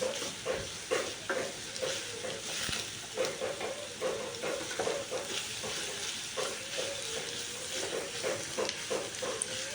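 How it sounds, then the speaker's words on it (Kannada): Garlic and onion frying in oil for a quick chicken dish, a steady close sizzle with repeated scraping stir strokes through the pan, no talking. "ಕಾಯಿ ಮುಂಚಿ ಬೆಳ್ಳುಳ್ಳಿ ನೀರುಳ್ಳಿ ತೊಟ್ಟಿಗೆ ಎಡ್ಡೆ ಫ್ರೈ ಆವೊಡು"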